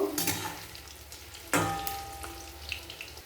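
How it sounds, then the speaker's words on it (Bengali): Fish pakoras frying in a pan of oil give a steady, fairly quiet sizzle, with a sharp louder burst partway through as they are turned, then a softer continuous bubbling. "এরপর পকোড়াগুলো উল্টে পাল্টে লাল করে ভেজে নেব"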